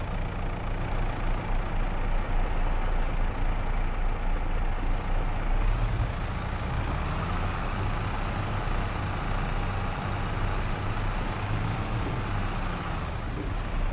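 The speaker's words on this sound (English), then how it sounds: "I hate backing up short trailers in-game and in real life as well." A heavy truck engine idles and rumbles steadily while backing up a short trailer in Farming Simulator 22, with a faint air-brake hiss and a low whine rising midway; no talking.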